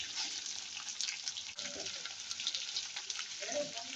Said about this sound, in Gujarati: ડુંગળી ઉમેરી લઈશું અને સાંતળી લઈશું ડુંગળીને.